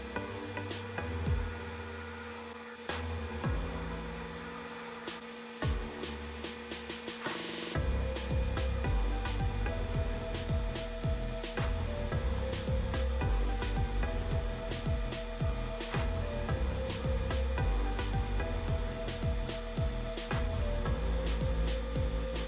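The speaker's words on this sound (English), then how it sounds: "I'm using this form tool, which has been ground to a 5/8" radius." A form tool ground to a 5/8 inch radius cutting the lower radius of a wheel marking gauge on a lathe gives a steady, close machining drone with scraping and rasping texture that grows louder and fuller partway through and continues to the end.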